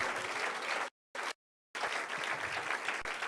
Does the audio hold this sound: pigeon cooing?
no